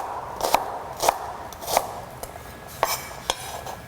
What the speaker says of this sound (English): start by chopping up a couple of regular yellow onions